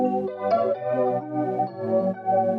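Sampled main melody loop for a house remix, a soft mid-toned melodic phrase of several sustained notes that repeats over a couple of seconds, moderately quiet and alone.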